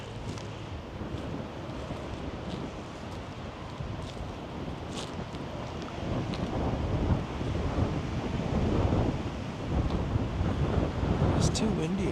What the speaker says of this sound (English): It's too windy, I just can't.